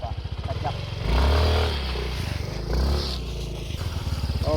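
Motorcycle engine revving hard in short bursts while a rider sets up a froggy wheelie with both feet on the rear, the engine roaring loudly up close with speech around it.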